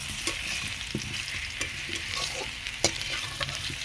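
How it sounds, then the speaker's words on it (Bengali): Potatoes fry in oil in a wok, a constant bubbling sizzle with occasional stirring clinks and scrapes, close and steady with no one talking. "দেখো আলুগুলো লাল লাল করে ভেজে নিচ্ছি"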